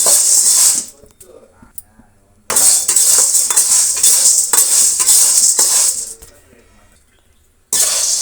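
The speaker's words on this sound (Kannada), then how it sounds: "ಮೊದಲು ನಾವು ಒಂದು ಬಾಣಲೆ ಇಟ್ಕೊಂಡು ಕಡಲೆಕಾಳನ್ನು ಹುರಿದಿಟ್ಕೋಬೇಕಾಗತ್ತೆ ಹುರಿಬೇಕು ಚೆನ್ನಾಗಿ" Chickpeas dry-roasting in a pan as they are stirred, bursts of rattling, scraping metal stirring that stop and start, with quiet gaps between.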